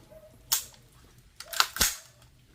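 CAR15 5.56mm rifle fired at a firing range in Dauis, Bohol, several sharp, loud cracks spaced irregularly, with two shots close together near the middle and brief decays between.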